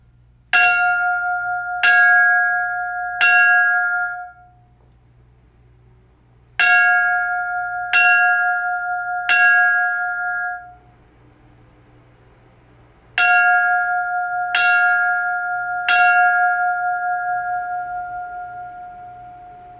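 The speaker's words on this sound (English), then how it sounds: "And the bell rings three times, followed by a pause" A ceremonial bell rung at a memorial tribute strikes clear, resonant tones in three sets of three, each strike ringing out before a short pause, loud and close with no voices.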